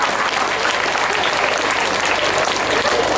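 Sustained audience applause fills a Kannada stand-up comedy show in Mysore, a dense steady wash of many hands clapping at even loudness throughout with no voices over it.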